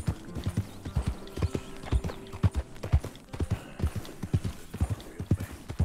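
Hooves of a big new horse clip-clop steadily at a brisk, even pace in the Western video game Red Dead, loud and close with a faint low background hum.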